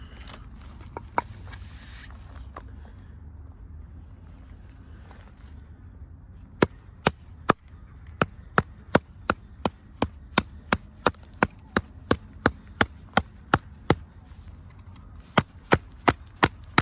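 Wood is chopped and split into pieces for a fire, sharp crisp knocks following one another in a quick, fairly regular series near the listener, with no talk.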